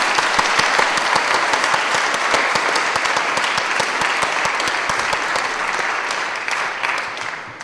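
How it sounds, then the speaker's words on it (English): Sustained, dense applause from an audience at a Catholic college graduation mass, many hands clapping together loudly and evenly before tapering slightly at the end. "you all deserve a massive round of applause"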